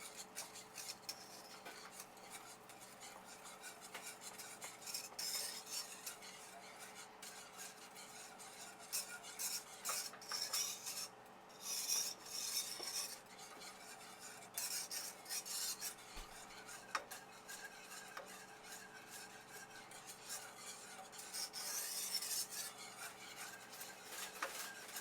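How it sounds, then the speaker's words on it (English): A whisk works a lemon cream cheese glaze with added sugar around a bowl, giving a steady, close scraping and rasping stir with brief louder bursts as it sweeps the sides; no talking. "So I whisk, and you want to make sure you get along the sides"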